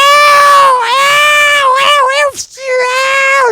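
A human voice imitates cats fighting, with loud, drawn-out yowling and wailing cries that rise and fall, broken by a brief gasp before the caterwauling resumes.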